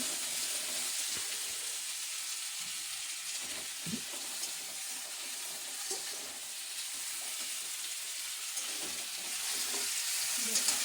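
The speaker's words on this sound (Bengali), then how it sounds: "আলু ভেজে নেব আলু ভেজে নিয়ে তারপরে আলু ভাজার পরে নুন হলুদ দেব" Potatoes fry in a pan with a steady, broad sizzle that runs throughout, broken by occasional scrapes and clinks from stirring; no one speaks.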